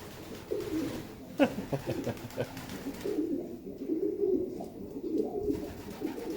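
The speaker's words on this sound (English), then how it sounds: "Pretty little white dove." Soft, low white dove and pigeon coos repeat in a murmuring rhythm, fairly close, with a faint tap and light background noise, at Kenilworth Castle.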